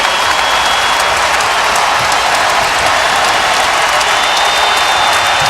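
A college basketball arena crowd in a Maryland–Virginia game roars with sustained cheering and applause, a loud, dense and unbroken wall of noise throughout.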